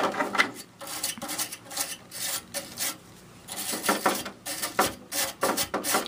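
A cheap stainless steel brush scrubs the fins of an A/C unit in repeated rasping strokes, close and steady, with brief pauses.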